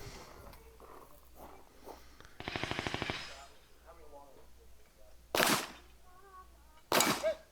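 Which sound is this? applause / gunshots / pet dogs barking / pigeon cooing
gunshots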